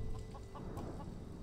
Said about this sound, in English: so he's just killing the chickens.